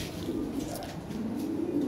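An original European standard-quality pigeon coos close up in a pair kept for sale, its low rolling murmur pulsing continuously and clearly with no talk over it.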